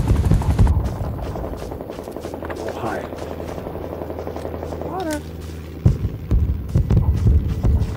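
A transport helicopter's throbbing rotor hum in the video game Rising Storm 2, with bursts of gunfire, people talking over the top, and a sudden loud thump near the end.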